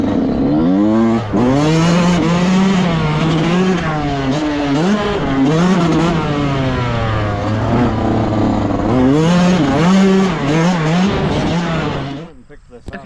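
A 2019 Yamaha YZ125 two-stroke dirt bike at a rocky riding area, engine loud and close, revving up and down in repeated rising and falling pulls before cutting off at the end.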